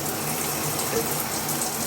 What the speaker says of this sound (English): This one has a little massager spray